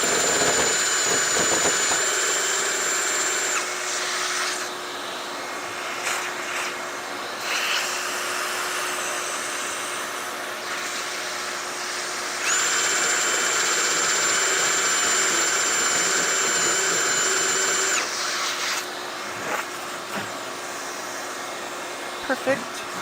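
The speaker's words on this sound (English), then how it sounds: "so now the hole we just drilled is a little smaller than the opening, so we have to kind of trim up the edge." A power tool trims the edge of a freshly drilled hole in a tank, giving a steady high-pitched whine in sustained bursts with brief pauses between them, close and fairly loud.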